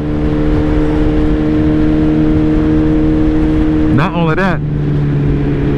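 A Suzuki Hayabusa motorcycle engine idles steadily while burning off old gas, a constant low drone with a sharp rev that rises and falls twice near the end; someone talks over it.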